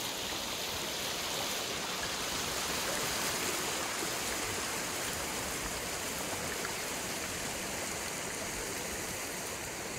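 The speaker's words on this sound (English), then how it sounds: "that waterfall was the main one." A waterfall in Ghost of Tsushima roars as a loud, steady, dense wash of rushing water that stays unchanged throughout.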